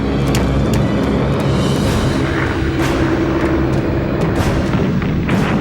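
Rapid, heavy booms of WWII-era anti-aircraft flak guns, including 88mm pieces, fire in an irregular barrage over a constant low rumble, with several sharp bursts cutting through the dense, continuous noise.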